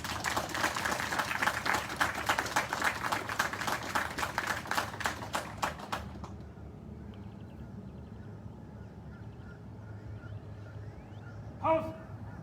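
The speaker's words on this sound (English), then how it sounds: "please join me in a round of applause for these Marines and sailors" Applause for Marines and sailors at a completion ceremony, loud sustained clapping from a crowd that stops abruptly, leaving quiet outdoor ambience with a brief faint sound near the end.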